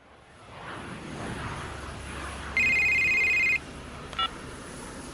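A telephone rings once in a steady electronic tone of about a second, then gives a short beep, all over a constant background rumble.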